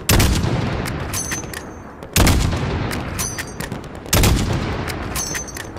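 Bursts of heavy automatic gunfire from a Call of Duty Modern Warfare mission, three loud barrages a couple of seconds apart, each fading into rattling echoes, with no talk.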